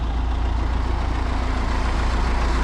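Low, steady rumble of a tractor engine idling nearby, a constant throbbing drone with no talk over it.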